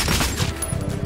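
Rapid gunfire bursts from a first-person shooter, Metro 2033 Redux, crackling loud and continuous through a brief stretch of combat.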